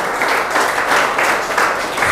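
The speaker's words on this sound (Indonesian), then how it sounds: "Berikan sorak-sorai buat Tuhan." Church congregation at a sermon in Palangkaraya breaking into loud, dense applause with scattered cheering, a steady close wash of clapping lasting a couple of seconds.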